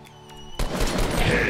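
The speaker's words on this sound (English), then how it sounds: "she's shooting" Fortnite gunfire bursts in suddenly after a quieter stretch, a rapid, loud rattle of close shots that continues to the end.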